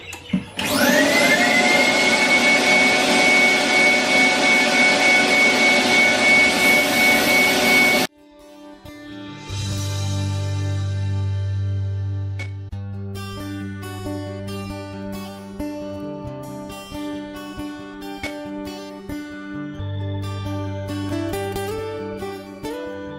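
A wood lathe spins a jarrah crochet hook while it is sanded through fine grits. A loud, steady whirring hum with a high rushing hiss runs for several seconds and then cuts off. Quieter tonal sounds follow.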